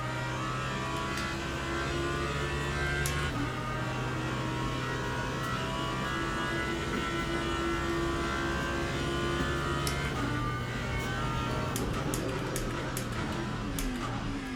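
A Lexus car's engine hums and rises on a race track, a steady, sustained drone that shifts pitch partway through as it accelerates and downshifts.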